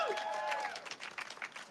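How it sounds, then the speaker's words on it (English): An audience at a political rally claps and cheers, a short, faint burst of scattered applause in a crowd. "Can we get another huge round of applause for Representative Ramos?"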